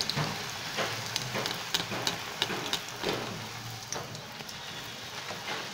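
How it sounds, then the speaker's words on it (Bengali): Potato luchi frying in hot oil, a steady dense sizzle with crackling bubbles and small pops running throughout, close and fairly loud, with no voices. "লুচি ছেড়ে দিয়েছি তেলে"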